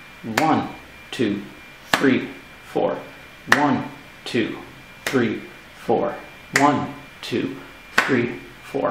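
Hands clap sharply and evenly on each beat in a beginner piano lesson, close and steady, while a voice counts along in repeating groups of four.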